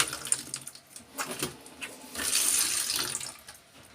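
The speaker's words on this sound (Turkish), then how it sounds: "Ve suyumuzu açtık mı arkadaşlar? Açtık." Water runs steadily from a Grohe 30221002 faucet under repair, a close splashing rush after a few knocks and drips at the start.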